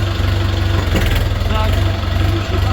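A new Chinese-built Scout tractor engine idles close by, a loud, steady low throb with an even pulsing rhythm that holds throughout.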